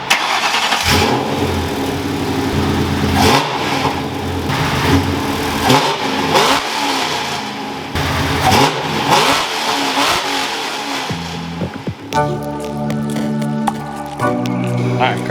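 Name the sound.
Crown Vic drift car engine revving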